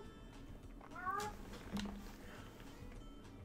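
A cat meows once, a short rising-and-falling call heard fairly close over a low background hum, in a Fishing Planet game scene set at Missouri's Mudwater river.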